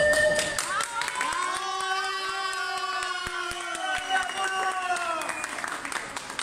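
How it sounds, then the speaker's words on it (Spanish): Crowd applause and cheering for Cuchilla, a Chilean clown returning to Colombia, steady and sustained from near the start, with a bright melodic tone sweeping through over the crowd. "Federico Benítez acompañó al payaso Cuchilla a recibir el mejor aplauso de su vida"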